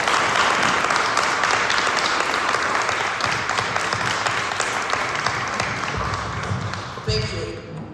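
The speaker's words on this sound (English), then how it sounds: "join us in acknowledging and giving them a round of applause" Audience applause at a 15th District council meeting for newly announced candidates, a steady dense clapping that carries across the whole stretch before thinning slightly near the end, with some voices mixed in underneath.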